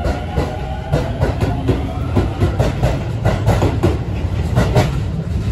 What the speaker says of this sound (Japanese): 今ちょうど新宿行きの各駅停車が発車いたしました。